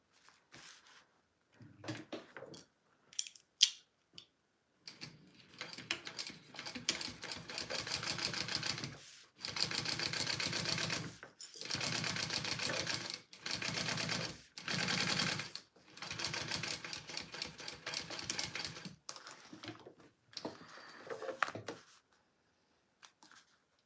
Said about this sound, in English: now I'm going to top stitch this piece on.